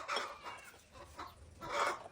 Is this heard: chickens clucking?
yes